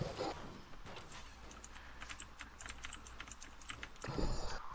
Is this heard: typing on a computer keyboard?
yes